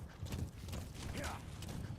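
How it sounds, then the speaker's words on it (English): D-Horse trotting with steady clip-clopping hooves in Metal Gear Solid V, continuous over game ambience with a brief rising whinny-like tone midway. "D-Horse is probably the best mode of transportation in the game"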